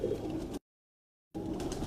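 Low, soft pigeon cooing in two short stretches separated by a gap of silence, fairly close and steady.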